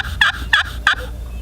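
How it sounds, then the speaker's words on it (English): A wild turkey gobbler gobbles outdoors, giving three short rattling bursts in quick succession, fairly close and loud over a low steady background rumble. "here comes another gobbler stepping out."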